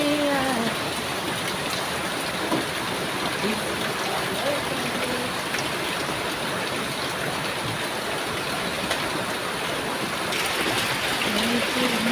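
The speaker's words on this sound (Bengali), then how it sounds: "রিমঝিম এই বৃষ্টিতে ভিজতে ভালো লাগে" Rain pours steadily in a dense, even hiss, with water running off brick rubble after intense heat, and a voice talks and sings softly under the downpour.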